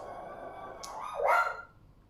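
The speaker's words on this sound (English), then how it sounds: "That's the dog." A single dog barks once, a short rising bark standing out over a low background hum, fairly close and brief, with no other voices around it.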